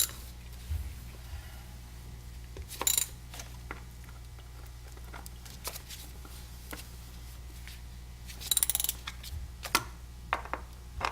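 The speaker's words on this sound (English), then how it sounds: "Take your number 10 socket, you tighten this down." Socket wrench tightening a bolt under the hood of a 2010 Chevy Traverse during a spark plug change, heard as faint intermittent ratcheting clicks with a couple of louder metallic bursts over a low steady background hum.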